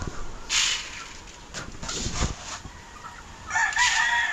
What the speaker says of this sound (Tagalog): tapos ang mga patutukain naman natin itong mga tandang